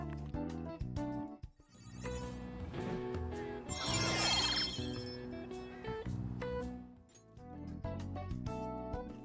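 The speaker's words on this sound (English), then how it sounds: "This chime is then expanded upon when you get a numbered increase in any stat." A bright, sparkling Persona 5 stat-increase chime rings out over layered musical tones, with a shimmering burst of high notes in the middle, fairly loud and continuous.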